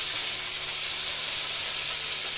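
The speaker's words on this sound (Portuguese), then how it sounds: "tá fritando frango, ali tá a água esquentando, tô ali fritando uma linguiça" Chicken and sausage frying on a wood-burning stove while water heats nearby, heard as a soft, continuous hiss and sizzle that stays even and low in level, with no talking.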